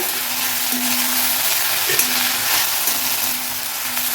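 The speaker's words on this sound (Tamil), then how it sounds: "ஓரளவுக்கு வதக்கினா போதும், ரொம்ப வதக்கணும் அப்படின்லாம் இல்லைங்க" Coriander leaves and tamarind sauté in a hot pan with a steady, close sizzle and light crackle, a faint stirring scrape briefly rising midway, with no voices.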